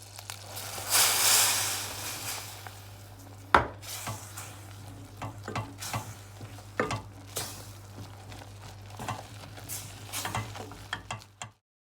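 A spoon works a thick churro dough of flour, water, oil and sugar in a pot, giving irregular scraping, knocking strokes close by over a steady low hum, with no talking.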